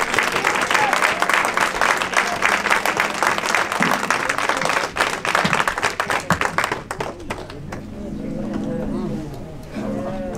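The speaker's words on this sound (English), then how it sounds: "let's give God a round of applause tonight" Applause from a large audience at a funeral service, dense clapping that fades after about seven seconds into quieter crowd noise and faint voices.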